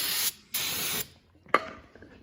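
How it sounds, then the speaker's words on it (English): Two short hissing bursts of brake parts cleaner sprayed onto a 2003 Ford F-250 cab corner, close and loud, followed by a brief metallic clack. "Get yourself some brake part cleaner, isopropyl alcohol, something, and just"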